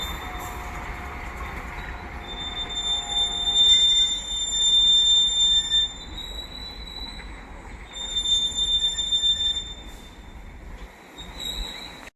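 Etawah–Mathura MEMU passenger train number 64624 running, with a steady rolling rumble of coaches on the rails and thin, high wheel squeals that swell and fade throughout. No one speaks.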